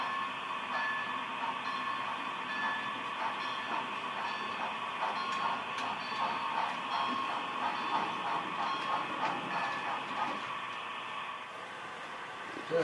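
A passenger train of a coach and baggage cars backs slowly into a dairy and ice house siding to pick up iced milk cars, with a steady rumble, hiss and faint clicking of wheels running continuously at moderate distance.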